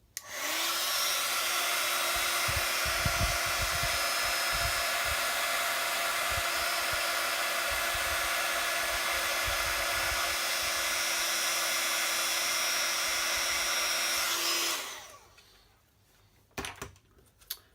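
A heat tool blows over a stamped card with a loud, steady whirring roar that runs for about fifteen seconds and then cuts off, followed by a few faint knocks.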